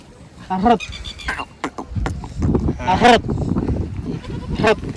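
Goats and sheep bleat several times while eating at a farmyard, loud and close, with rustling and chewing noises between the calls.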